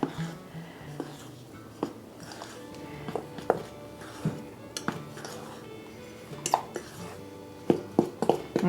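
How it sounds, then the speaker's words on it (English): Grated butter is stirred into dry flour ingredients in a bowl, giving soft, close scraping and scattered light clinks of utensil against the dish at an uneven pace, with no talk. "Now I'll put it in with the dry ingredients and kind of get it all stirred around till it's kind of crumbly."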